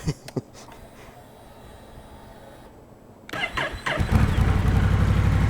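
A few clicks and a cranking engine, then a 2021 Honda Rebel 1100 motorcycle with a short aftermarket exhaust fires up and settles into a loud, steady idle close by.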